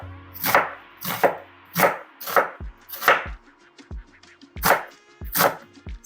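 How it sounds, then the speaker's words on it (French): Onions chopped with a knife on a board, about eight sharp, evenly spaced chops ringing out close and loud against silence. "je vais couper mes oignons et je vais les faire sauter avant de faire cuire la viande"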